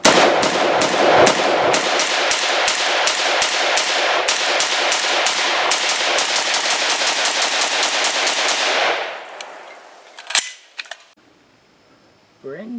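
Rapid strings of loud, sharp gunshots from a CZ Bren 2S pistol at a shooting range, dozens of close cracks fired in fast bursts that fill most of the time before fading to a few scattered sounds and quiet.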